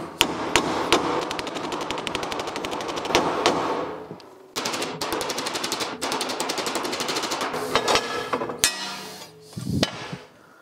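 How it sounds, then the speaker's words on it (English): Rapid, loud hammer blows ring out on metal as a new side step piece for an old rusty truck is bent, in fast bursts, pausing briefly before resuming, then a few slower final strikes. "if we can hammer this down."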